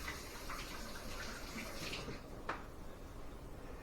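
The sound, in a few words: rinsing hands under running tap water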